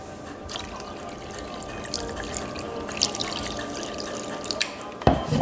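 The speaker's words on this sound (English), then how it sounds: "So I'm going to add the water." Water pours steadily into a cooking pot, a continuous close splashing and trickling stream with a few brighter splashes near the end and no talking.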